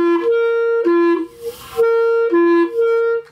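Clarinet notes slurred back and forth across the break, with short gaps between some notes because the left thumb does not cover the hole. The tones are clear and close, with a brief breathy dropout in the middle.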